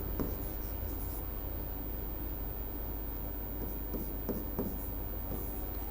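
Chalk or a marker scratches and taps across a board during a Hindi grammar lesson on sandhi. The strokes come as faint, scattered scrapes over a steady background hiss.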